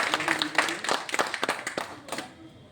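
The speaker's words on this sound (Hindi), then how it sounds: "एक बार तालियां बजा दीजिए।" Scattered hand clapping from an audience at an indoor association meeting and lunch in a hotel, a few irregular claps fading out after a couple of seconds.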